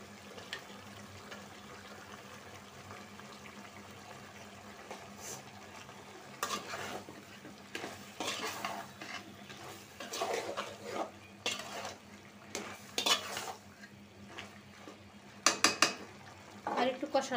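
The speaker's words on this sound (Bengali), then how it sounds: "এখন আমি টমেটো দিয়ে আর একটু কষায় নিব।" Fish curry with potol (pointed gourd) being stir-fried after tomato goes in, with a spatula scraping and clinking against the pot in irregular bursts over a low simmering hiss, getting busier toward the end.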